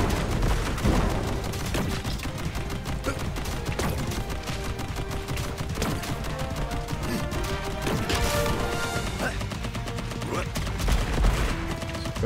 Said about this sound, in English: Machine guns, let's go.